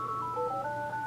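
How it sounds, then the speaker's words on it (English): A phone rings with a melodic electronic ringtone, a series of stepped beeping tones that change pitch, steady and fairly close. "that's my phone"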